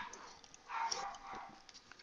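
Dogs bark and whimper faintly in the background of a room, producing a few soft, distant yips and barks with no talk over them.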